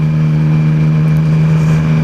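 A Triumph Speed Triple 1050 motorcycle engine runs loud and close with a steady, strong droning hum, sounding like it is pulling under acceleration.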